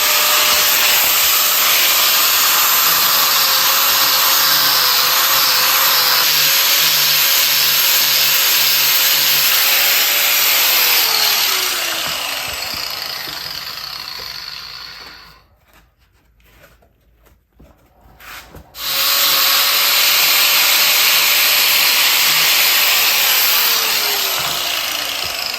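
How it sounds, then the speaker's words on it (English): Power grinder shaving down motorcycle seat foam, a loud continuous whine with shifting pitch sweeps, cutting out briefly near the middle before resuming at full strength. "I'm gonna go ahead and start shaving some of this down with the grinder"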